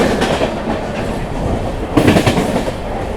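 The 17645 Secunderabad–Repalle Express runs along the rails near Nallapadu Junction, giving a loud, continuous rumble with rhythmic clickety-clack of wheels over rail joints that swells briefly midway.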